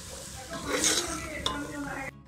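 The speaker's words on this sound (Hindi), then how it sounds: "अब हम इसकी अच्छे तरीके से करेंगे 2 से 3 मिनट के लिए भुनाई करेंगे।" Green chickpeas with turmeric are stir-fried in oil in a pan for an Afghani pulao, giving a soft scraping stir, a light sizzle and one clink of utensil on metal, with a voice faintly underneath.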